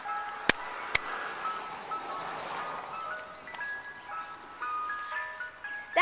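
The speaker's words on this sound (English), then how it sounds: "Ice cream truck." A Mister Softee ice cream truck plays its tinkling jingle outdoors, soft and somewhat distant beneath street ambience, with two sharp clinks near the start.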